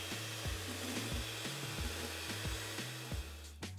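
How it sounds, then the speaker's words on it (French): Electric mixer beating egg whites stiff for a lemon marshmallow, a loud steady whir with rhythmic pulsing dips as the beaters move through the bowl, close and continuous. "on bat à présent nos blancs bien fermes"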